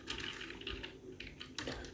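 Fast typing on a computer keyboard while entering text into an MS Excel spreadsheet, a quiet close burst of rapid key clicks with brief pauses and no speech.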